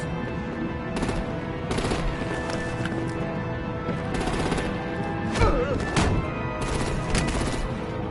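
Artillery fires in Batman: The Enemy Within in repeated sharp bursts over a steady mechanical drone, with a loud crack near the middle.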